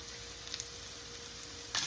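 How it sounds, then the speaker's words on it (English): Tuna steak laid into a preheated pan, giving a faint, steady sizzle with a soft crackle and a thin constant tone, ending in a brief louder burst. "Hear the sizzle"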